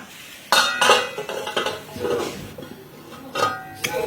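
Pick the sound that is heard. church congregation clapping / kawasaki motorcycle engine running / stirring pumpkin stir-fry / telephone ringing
stirring pumpkin stir-fry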